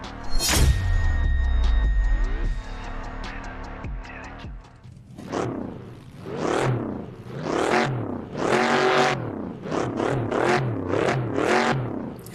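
A 1966 Ford Mustang Fastback engine in the game Assetto Corsa revs hard in repeated rising and falling bursts, loud and close, with a brief idle-like rumble at the start.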